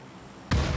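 A grenade explodes in the PUBG video game: a sudden, heavy, low boom hits partway through a very short clip and cuts off the quiet game ambience before it.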